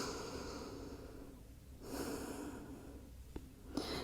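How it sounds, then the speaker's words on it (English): During a yoga core session, a person resting in child's pose takes slow, soft breaths close to the mic, with a sharper nasal exhale near the end. "do a few breaths here"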